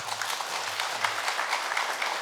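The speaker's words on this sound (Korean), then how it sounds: "박수도 쳐주시고" An audience of seniors at a dementia-prevention lecture applauds a speaker, a continuous dense patter of many hands at moderate distance, with no talking over it.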